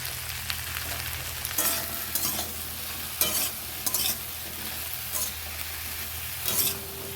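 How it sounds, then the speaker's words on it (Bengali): Okra and ivy gourd fry together with dried chillies in a pan: a constant low sizzle with repeated bursts of spatula stirring and scraping throughout. "ভাজা ভেন্ডি আর কুঁদলিটাকে একসঙ্গে ভাজা করে নেব"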